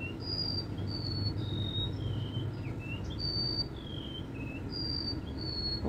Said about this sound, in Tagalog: Kumakanta yung ibon.